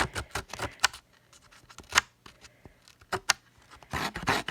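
An old edge distressor tool scrapes and roughs up the edges of white core cardstock in a run of short, sharp rasping strokes with brief pauses between them, close and fairly quiet.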